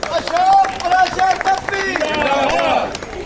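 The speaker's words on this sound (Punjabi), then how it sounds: "ਤਾੜੀਆਂ ਬਣਦੀਆਂ ਇਹਨਾਂ ਦੇ" Applause from an outdoor audience at a park renovation inauguration, steady crowd clapping and babble running throughout, with a voice speaking over it.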